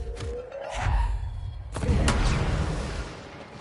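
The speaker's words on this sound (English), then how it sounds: "evidently explosions don't work" Explosions in the video game Control, two heavy muffled booms with crumbling debris, the second sharper and followed by a rumbling tail, close and fairly loud with no talk over them.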